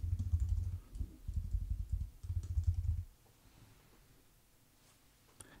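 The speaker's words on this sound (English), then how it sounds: "I'm going to type in my name." Someone types a name on a computer keyboard in a quick burst of close key clicks. Three short runs of clicks are followed by near silence with a single faint tap.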